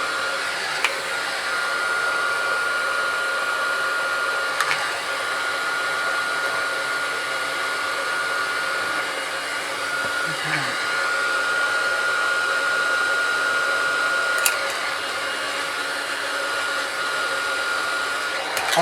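A heat gun on a light setting blows steadily while warming the screen of a Samsung Galaxy A30 for replacement; a constant, close airy whoosh runs without a break, with a few faint clicks.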